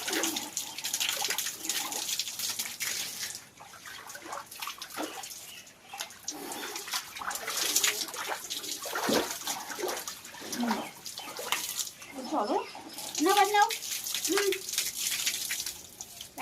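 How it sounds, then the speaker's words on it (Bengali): Water splashes and pours steadily while hair is washed with shampoo, with wet rubbing and dripping sounds throughout and brief pauses; a speaking voice is heard intermittently over the running water. "চুলটা এখন মাথায় দেবো শ্যাম্পু"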